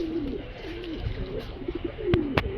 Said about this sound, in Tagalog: Tingin-tingin muna tayo ng ating mga kalapati dito mga kalapatids.